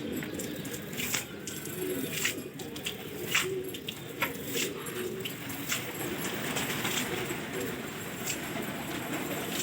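Pigeons arriving at a rooftop loft during a pigeon-flying contest in Lucknow, with soft repeated cooing and wing flutters over steady background noise and faint voices.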